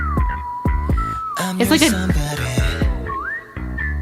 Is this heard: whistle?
yes